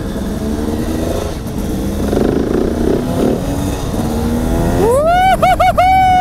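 A two-stroke motorcycle is ridden nearby, its engine droning and then revving sharply with several high-pitched throttle blips near the end, with a voice faintly heard underneath.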